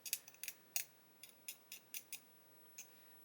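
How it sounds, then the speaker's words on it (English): A hobby knife scrapes seam lines off a plastic part of a 1/8-scale Pocher Porsche 917 model kit, in a series of about ten short, faint, close scratches at an uneven rhythm. "I'm using a knife to scrape away the seam lines rather than sand them"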